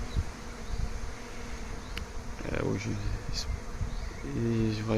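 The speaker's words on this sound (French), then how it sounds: "J'ai voulu me mettre au milieu de l'essaim" Honeybee swarm in flight around an apiary hives, a dense continuous buzzing hum from many bees close around, with individual bees droning past louder at moments.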